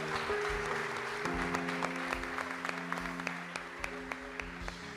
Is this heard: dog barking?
no